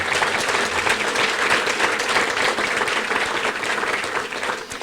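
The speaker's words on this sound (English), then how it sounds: "Let's give him one more big round of applause." A breakfast event audience gives a big round of applause, dense and loud clapping from a crowd in a room, continuous for the whole stretch with no gaps.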